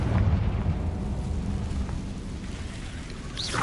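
Confringo blasting spell explosion in Hogwarts Legacy on PS5, a heavy rumbling blast at the start that decays into a sustained crackling roar, with a brief bright swish near the end.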